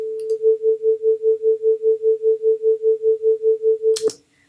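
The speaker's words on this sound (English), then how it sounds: "So the beating you hear is because your ear can't discern those" Two pure sine tones at 440 Hz and 445 Hz sound together, producing a steady pulsing beat about five times per second that swells and fades evenly, heard alone before a sharp click ends it.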